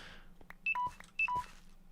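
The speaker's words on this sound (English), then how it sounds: "That's my phone saying it's going flat." A phone's low-battery alert chirps as two pairs of quick two-tone electronic beeps, faint and close against a soft low background hum.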